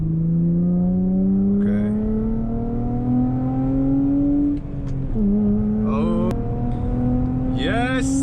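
An Acura TL fitted with a short shifter and new bushings accelerates hard, its engine note climbing steadily, dropping briefly at a gear change, then rising again, loud and close, with a brief spoken word.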